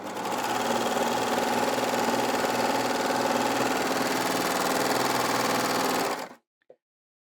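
A Baby Lock Enlighten overlocker runs steadily at high speed while serging medium weight denim, a continuous close whirring mechanical drone for about six seconds that stops abruptly, followed by a faint click.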